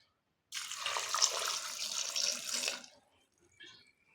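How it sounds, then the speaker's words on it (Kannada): Water runs from a tap into a cooking pot for milk sambar in a home kitchen, a steady splashing stream of about two seconds that then stops, with a faint trickle afterward. "ಸ್ವಲ್ಪ ನೀರು ಹಾಕ್ಬಿಡೋಣ."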